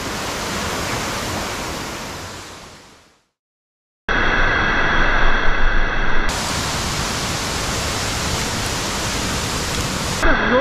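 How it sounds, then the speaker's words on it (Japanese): Fudo waterfall, a 40 m fall at the source of the Yagi River, roars as a loud, steady broadband rush that cuts out briefly and then returns at full strength. "これが不動滝。"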